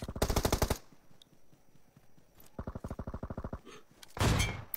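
Automatic weapon fire in the mobile battle royale game PUBG Mobile: two rapid bursts of evenly spaced shots, one opening the sequence and another midway, followed by a heavier rumbling blast, loud and close with quiet gaps between.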